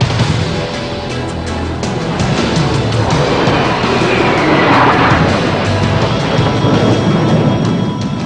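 A team of Swiss Hawker Hunter jets roars past at the Royal International Air Tattoo air show, a loud, broad jet rush that swells and sweeps through the middle before easing slightly.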